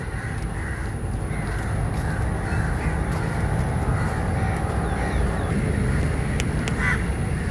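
Crows caw now and then against a steady outdoor wash of wind and distant traffic in a large park in Sri Lanka, the calls fairly faint and scattered.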